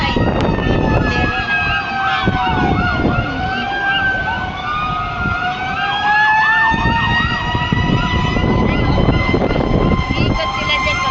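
Several fire truck sirens wail and overlap at a fire in Binondo, Manila, rising and falling steadily over loud street noise and crowd chatter, with voices talking throughout.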